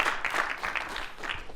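Audience applause after a conference talk, a dense wash of many hands clapping at moderate level, brief and steady throughout.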